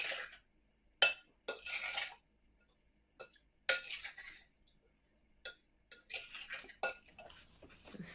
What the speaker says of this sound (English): Give it a good stir a couple of times.